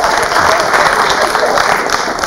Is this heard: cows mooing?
no